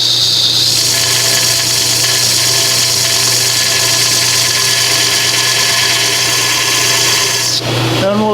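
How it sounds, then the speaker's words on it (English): Grinder grinding a wheel spacer from a 1949 Chevrolet gasser, the spacer clamped on a bolt and held at a slight angle: a steady, loud high-pitched whine and grinding drone that holds constant, then cuts off abruptly near the end. "put it against the grinder at a slight angle so that we're grinding as it turns"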